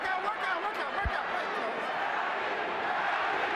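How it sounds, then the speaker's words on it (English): At a Manny Pacquiao versus Erik Morales boxing match, a large arena crowd keeps up a steady roar, with rhythmic chanting of a fighter's name rising from the mass of voices, fairly faint and distant throughout. "Manny, Manny, the crowd chant."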